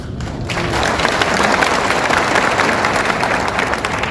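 Applause from a crowd at a political rally in Patna, steady dense clapping that holds loud and continuous throughout, with no speech over it.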